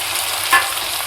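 A spice paste loosened with a splash of water sputters softly in a pan, a close, even hiss with one brief scrape of a spoon.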